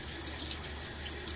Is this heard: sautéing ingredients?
no